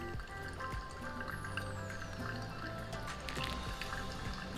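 Hot water pouring fast over ground coffee in a V60 pour-over dripper, a continuous soft trickle and splash that runs quietly throughout with no talking.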